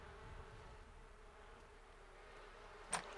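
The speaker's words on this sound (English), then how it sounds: "Sounds like we may need to check our bees, too." Faint, steady insect buzzing of bees in The Sims 4 hums continuously in the background, with one brief louder click near the end.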